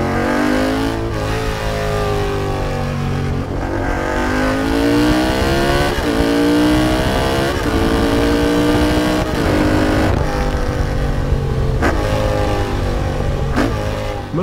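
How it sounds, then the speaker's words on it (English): Loud, close revving of a Honda CX 500 cafe racer motorcycle fitted with pea shooter exhausts: the engine note repeatedly climbs and falls with throttle blips over a constant rumble, with no speech. "The sound of the pea shooters changes according to the rotation of the accelerator."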